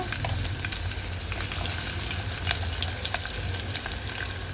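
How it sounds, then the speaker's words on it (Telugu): Coarsely crushed garlic fries in a pan with a steady, even sizzle and occasional stirring scrapes near the end, close and continuous without any talking. "కచ్చా పచ్చగా దంచుకున్న ఎల్లిపాయలు కూడా వేసేసాను"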